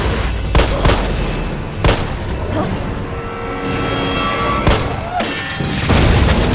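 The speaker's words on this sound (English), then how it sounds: "Clearly I'm using a rocket launcher" A rocket launcher firing in Resident Evil 3, with loud booming blasts repeating about every second or so over a continuous roar of explosions and gunfire.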